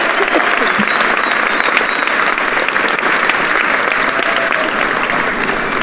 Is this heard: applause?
yes